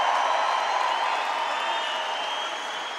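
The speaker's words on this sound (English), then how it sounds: "Ladies and gentlemen, raise it up for these phenomenal athletes." At a strongman log lift event with Eddie Hall, a large crowd applauds and cheers in a dense, steady wash of clapping that slowly fades.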